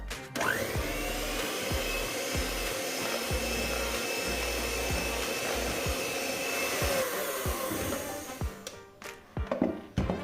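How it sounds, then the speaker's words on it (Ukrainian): An electric mixer whips cream on low speed while dissolved gelatin is poured in for a layered cake, a steady close whirring drone with rhythmic low bumps as the beaters turn, then it stops and clatters. "Вливаємо маленькою струйкою та починаємо взбивати на малих оборотах."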